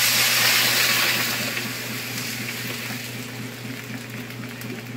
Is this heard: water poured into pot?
yes